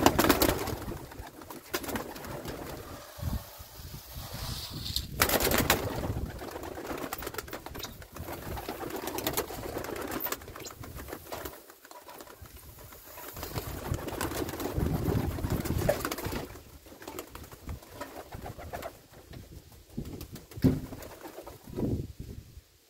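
Yellow Czech show pigeons coo in a new loft in low, throaty murmurs throughout, several birds close by, with rustling and fluttering mixed in.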